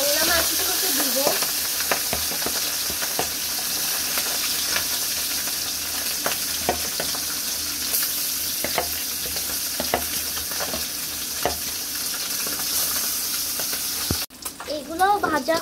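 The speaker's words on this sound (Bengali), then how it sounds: "তেলটাকে গরম করে নিতে হবে। এবার ট্যাংরা মাছগুলোকে দিব।" Tengra fish fry in hot oil, giving a loud, dense, continuous sizzle with bursts of spitting and crackling and some scraping from stirring. Near the end the sound briefly drops and then surges again.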